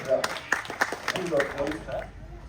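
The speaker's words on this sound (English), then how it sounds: "We'll give her a round of applause anyway" A crowd at a zoo bird show gives a short round of applause, light claps heard early and fading while a presenter keeps talking.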